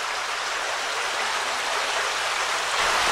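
A small cascade on a stream near the Cabin Run covered bridge in Pennsylvania gives a steady, close rush of splashing water that stays even throughout, with no voices.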